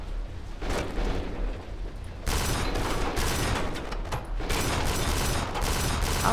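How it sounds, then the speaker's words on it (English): Sustained gunfire from enemies in the video game Kane and Lynch 2, a dense, loud barrage of rapid shots and impacts that swells after a couple of seconds and keeps rattling on with no let-up. "How are they still shooting me?"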